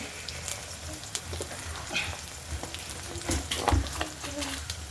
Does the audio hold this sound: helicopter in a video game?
no